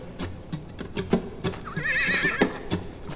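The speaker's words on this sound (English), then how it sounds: "This is his horse." A horse in the streets of Riga whinnies close up, a quavering neigh rising above the soft clip-clop of hooves.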